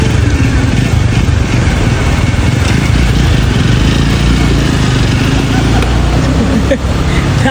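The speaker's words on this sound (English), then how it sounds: "That long ass kickstart." A motorcycle engine on a street in Salvador, Brazil, churns and labours through a long kickstart attempt, a steady loud mechanical drone with traffic noise around it.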